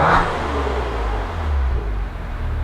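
Maserati Ghibli SQ4 with a Ferrari-built engine revving in sport mode, a low engine rumble with a rising rev near the start, then a steady drone close by with no talking.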